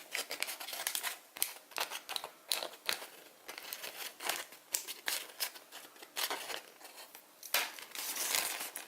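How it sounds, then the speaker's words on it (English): Origami paper for a Pegasus model by Satoshi Kamiya is creased with valley folds and squash-folded, giving close, crisp crinkles, rustles and sharp snaps in an irregular, busy stream with no talking. "We make this the valley fold. And squash it at once."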